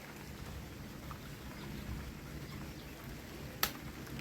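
Steady soft rainfall hisses in the background, even and continuous, with a single sharp tap near the end.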